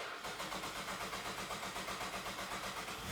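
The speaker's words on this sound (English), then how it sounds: "I'm going to step on the brake and try to start the vehicle." A 2010-2016 Cadillac SRX engine cranking and catching after a fuel pump replacement, a rapid rhythmic starter churn settling into a running mid-pitched engine, close and steady throughout.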